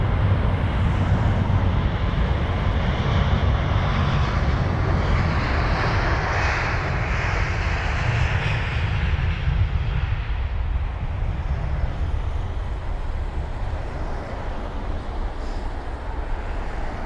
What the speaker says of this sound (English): We've got the A350 next. Here it is. A350-1000.